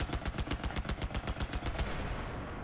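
Rapid automatic gunfire in the video game Battlefield 4, a fast even burst of about a dozen sharp shots that stops abruptly and leaves a fading tail.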